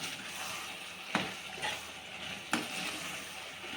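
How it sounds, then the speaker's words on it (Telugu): Masala mixture for boti curry cooking in oil, a soft continuous sizzle with two sharp scraping stirs of the spoon, no voices. "ఇవన్నీ కలిపి చక్కగా కొద్దిగా సేపు నూనెలో ఉడకనిద్దాం"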